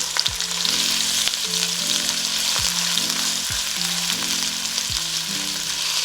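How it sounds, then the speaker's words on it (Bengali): Chopped ginger and garlic frying in two tablespoons of oil, a loud, steady sizzle close up with regular stirring scrapes and a low repeating hum underneath, no voices. "এগুলো একটু সুন্দর করে ভেজে নিতে হবে"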